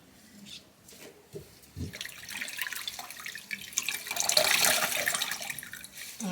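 Fridge parts being washed under a running kitchen tap, with water splashing and gurgling against plastic, growing louder and busier midway, close and continuous with no talking.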